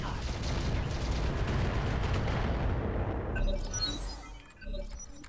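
Mech weapons fire in the video game Roguetech, heavy rumbling blasts and crackling impacts rolling together densely before thinning out into scattered metallic debris sounds.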